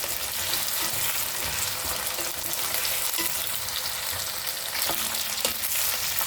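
Large potato pieces fry in a pan for a Bengali cabbage dish, making a dense, steady sizzle with occasional stirring clatter, close and even throughout.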